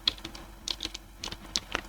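Computer keyboard keys clicked in quick, irregular bursts during 3D mesh topology editing with shift and alt selections; crisp, close presses with no talk.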